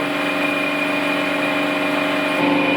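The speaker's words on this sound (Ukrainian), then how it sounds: "шліфуємо центральну корінну шийку." Narrow grinding wheel grinding the central main journal of a T-150 tractor crankshaft, a steady loud mechanical whine and hum with constant tone throughout, no voices.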